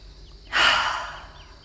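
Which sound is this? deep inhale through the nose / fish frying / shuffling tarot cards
deep inhale through the nose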